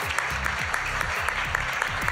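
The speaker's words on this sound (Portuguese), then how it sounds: "Uma salva de palmas para os dois." Studio audience on a game show clapping for two contestants, a dense, even burst of applause with a rapid patter of many hands, loud and close, lasting briefly.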